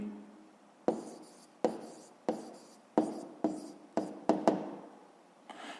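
A pen or chalk taps and scratches out an answer in about nine short, sharp strokes, quiet and close, with brief pauses between marks and no talking.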